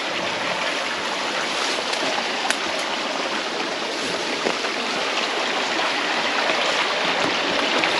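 Water rushes steadily through a man-made drain beside an abandoned coal mining road on New Zealand's West Coast, a close, constant broadband flow with no pauses and no talking.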